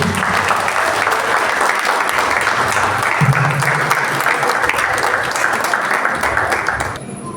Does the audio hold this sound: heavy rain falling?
no